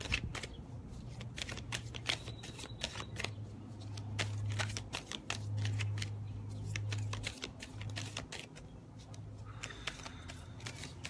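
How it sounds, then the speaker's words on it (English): Tarot cards being shuffled by hand: a long run of crisp riffling flicks and soft slaps, steady and close, with a faint low hum underneath. "because it takes a long time to shuffle sometimes"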